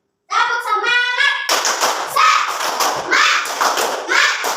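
Classroom of children clapping together in a rhythmic clap chant, standing in a social studies lesson; dense, fairly loud claps after a short voiced call, with young voices mixed in throughout.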